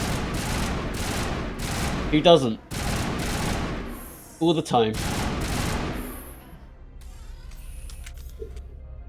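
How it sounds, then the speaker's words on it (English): Bursts of rapid gunfire in the video game Mass Effect Legendary Edition rattle in close, repeated volleys separated by brief pauses, with a voice speaking in between. "Just gunfire every day, all day, every day."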